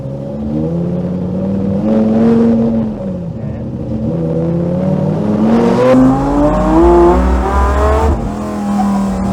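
A V10-swapped rear-wheel-drive Lincoln Continental accelerating hard on a street, its loud engine note climbing steadily in pitch through the gears, close and continuous with a brief dip between pulls.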